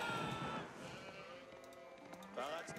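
Sheep bleat in Age of Empires IV, a few wavering calls rising over a busy game soundscape with hoof clops and a voice talking under it.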